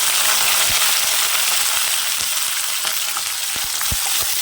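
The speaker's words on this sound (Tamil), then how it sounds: "கருவேப்பிலை சேர்த்துக்கலாம். சின்ன வெங்காயம் பச்சை மிளகாய் சேர்த்துக்கலாம்." Curry leaves, shallots and green chillies crackling loudly in hot oil for a mushroom gravy, a dense, continuous close sizzle with frequent spitting pops.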